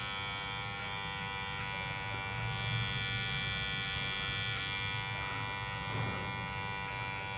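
An electric hair clipper fitted with a number 1 guard cutting hair, a steady close buzzing hum that holds throughout with slight changes in load, no voices.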